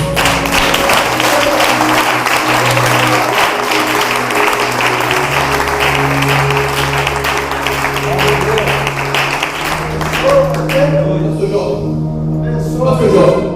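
A church congregation at a Baptist service in Ubaporanga applauds, sustained clapping over music for about ten seconds before it drops away and a voice takes over.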